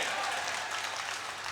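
Audience applause at an Urdu mushaira poetry recital in Muzaffarnagar, a dense steady wash of many hands clapping at moderate level throughout, with no speech over it.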